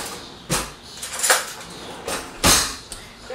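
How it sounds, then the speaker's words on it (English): Kitchen clatter while fetching a spoon during falafel muffin prep: a few sharp knocks and clinks of cutlery and cupboard handling, spaced out and moderately close. "Let me grab a spoon."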